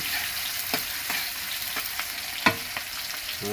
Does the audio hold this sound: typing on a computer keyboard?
no